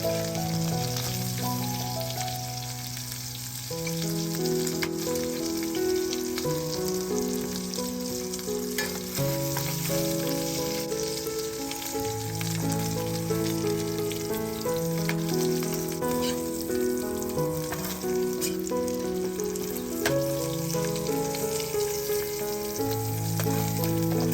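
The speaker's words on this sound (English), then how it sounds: "In the same pan, saute your minced garlic and onion for about 1 minute until they're fragrant and soft" Minced garlic and onion sauté in a pan with a steady, close sizzle that runs throughout beneath louder tonal background music.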